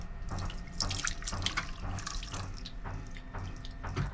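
Water runs steadily from a tap into a sink in an immaculate train toilet aboard an Italian high-speed train, a continuous close splashing stream with small drips, no talking.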